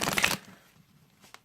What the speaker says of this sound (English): it's actually a really nice deck to shuffle.